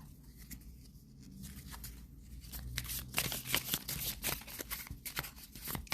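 Oracle cards are shuffled and picked up by hand, with soft riffling and rapid papery flicks that build into denser bursts of close shuffling, fairly quiet and without talk.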